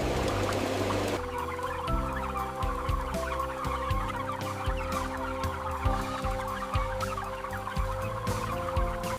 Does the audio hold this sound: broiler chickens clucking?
yes